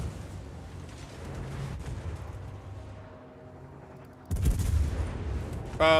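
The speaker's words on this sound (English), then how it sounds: "that's a lot of stuff shooting at me" Naval guns fire at a warship in World of Warships: a low rumbling barrage builds, then a loud booming salvo erupts near the end, with another sharp blast closing the passage.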